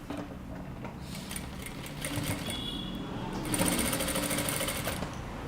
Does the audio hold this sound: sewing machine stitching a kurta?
yes